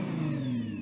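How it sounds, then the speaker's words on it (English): Nissan GT-R engine revving, heard as a steady mid-pitched engine drone with a slowly rising whine over a brief moment, fairly faint and with no talking. "Go on, rev up the GTR."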